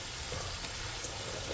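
Squash added to shrimp simmering in coconut milk in a pan, giving a low steady bubbling sizzle with a few small pops and stirring noises, close and even throughout.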